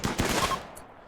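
Chain shotgun fire in the video game RimWorld, a loud burst of several rapid overlapping shots in the first half second that fades into a short decaying tail.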